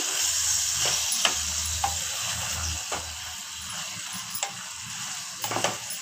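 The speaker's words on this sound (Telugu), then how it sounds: "ఇప్పుడు శుభ్రం చేసి పెట్టుకున్న చికెన్ వేస్తున్నాను." Chicken pieces fry in a pan with a steady close sizzle, broken by soft stirring knocks and scrapes and a few sharper clicks of utensils, no voices.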